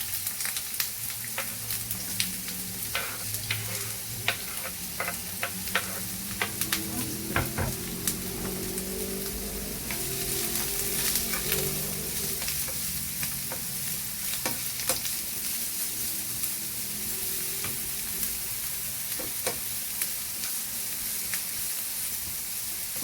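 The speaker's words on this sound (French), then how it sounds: "On va laisser les oignons dorer un peu." Onions fry in oil in a pan until golden, giving a soft, continuous sizzle with occasional light stirring clicks, steady and fairly quiet throughout with no talking.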